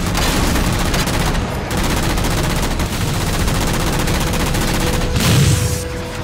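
Relentless automatic gunfire and missile blasts from the video game Halo 4 rattle loudly and continuously, a dense rapid clatter with brief lulls and a heavier boom near the end.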